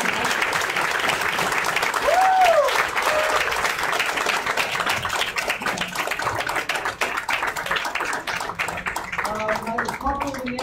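Sustained applause from a conference audience after a panel of speakers, steady and fairly loud for the whole stretch, with a few scattered voices and whistles rising over the clapping.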